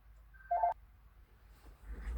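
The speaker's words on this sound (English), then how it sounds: "Oh, there's my phone." A phone gives a short electronic tone, a single clear beep lasting about a quarter second, followed by quiet room noise.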